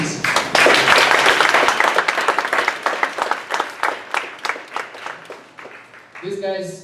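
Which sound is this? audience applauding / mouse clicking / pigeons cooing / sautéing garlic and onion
audience applauding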